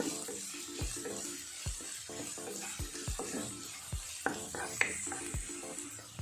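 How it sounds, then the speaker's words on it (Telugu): Finely chopped onions frying on a low flame for an aloo peas curry, a soft steady sizzle with repeated spoon stirs and scrapes against the pan. "చిన్నగా తరిగి పెట్టుకున్న ఉల్లిపాయ ముక్కలను కూడా వేసి ఆనియన్స్ పచ్చివాసన పోయినంత వరకు లో ఫ్లేమ్లో వేయించుకోవాలి"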